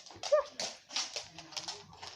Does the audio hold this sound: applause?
no